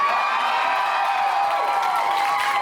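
Concert crowd in Tampa cheering and applauding for a DJ during a live show, a dense, steady wash of voices and whoops filling the room throughout.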